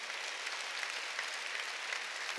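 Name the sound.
congregation applause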